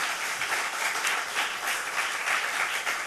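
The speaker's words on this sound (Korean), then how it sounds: "자, 박수 한번 해." Church congregation clapping for a pastor who leads worship, a full crowd applauding with slightly pulsing, fairly soft energy, steady and unbroken with no speech over it.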